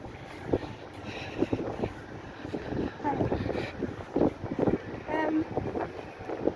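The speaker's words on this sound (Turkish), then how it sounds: "rüzgar da bayağı var ya" Steady wind buffets the microphone in a low, rushing roar, with a voice talking over it.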